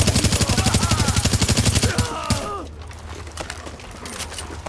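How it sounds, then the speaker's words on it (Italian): Rapid bursts of gunfire from the video game Tom Clancy's The Division, a loud automatic stream in the first two seconds, then a few scattered quieter shots over a low rumble. "Sembrava uno sparo."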